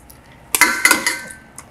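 Drained roasted vegetables for ajvar sauce drop into a metal pot with a few quick clinks and clatters, close by, lasting about a second before fading.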